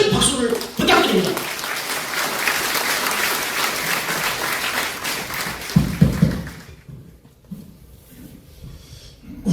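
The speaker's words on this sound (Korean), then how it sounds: "여러분의 큰 박수를 부탁드립니다" Audience applause at a Korean book-launch ceremony with a saxophone concert, a dense steady roar of clapping from a large crowd that builds, then fades out after about seven seconds.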